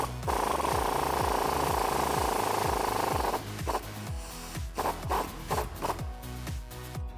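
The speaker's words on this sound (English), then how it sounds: "I'm going to be using an 18mm swivel and an 18mm wrench to take that bolt out." An 18mm wrench and swivel work the lower shock bolt loose on a Jeep Wrangler JK during a lift kit install, giving a steady rhythmic ratcheting and rasping that runs for about three seconds, then breaks into scattered clicks and metallic knocks.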